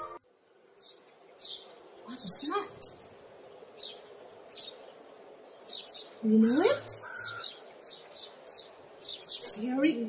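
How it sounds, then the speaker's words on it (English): Bright chirping bird calls, short high tweets and a few rising whistles, close and clear, with a person speaking briefly over them. "It's a chirping bird"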